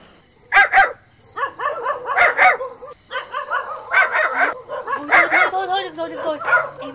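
A dog barks repeatedly and loudly while a man barks back at it, the imitated and real barks overlapping in a lively back-and-forth over a steady high electronic whine, in a Vietnamese comedy scene.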